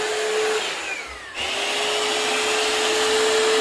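A Shark VACMOP vacuum cleaner runs close by with a steady high whine that dips briefly and then resumes at a slightly different pitch.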